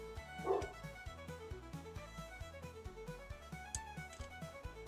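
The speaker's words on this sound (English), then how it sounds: "Wait for the dog to stop barking." Dog barking indoors in the background while a plant stand is assembled, a series of faint, repeated yaps and barks in an uneven rhythm, with soft whimpering tones mixed in.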